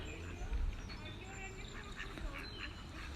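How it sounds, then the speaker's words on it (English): Mallard duck quacking outdoors at Ross Castle in Killarney, County Kerry. The calls come close and steady over a continuous background wash. "So he's a mallard duck."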